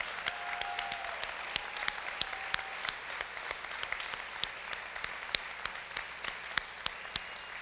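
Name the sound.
audience applause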